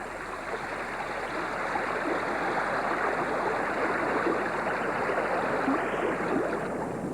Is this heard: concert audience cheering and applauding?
no